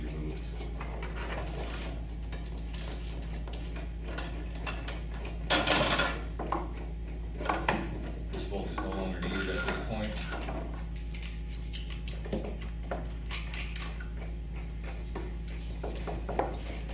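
A 3/4 inch wrench and socket loosen bolts on a Steinway piano crate, giving scattered metallic clicks and ratcheting clinks over a steady low hum, with a few louder knocks and faint voices in the background.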